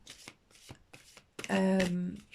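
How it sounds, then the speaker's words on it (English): A deck of Angel Dream Oracle cards by Doreen Virtue is shuffled by hand in quick rustling bursts, ending with a voice speaking briefly over the cards. "These cards that I'm shuffling at the moment are the Angel"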